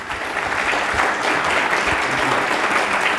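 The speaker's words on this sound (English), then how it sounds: "A round of applause to our speakers." Steady, dense clapping from a conference audience at a manufacturing forum, loud and continuous for the whole span with no talk over it.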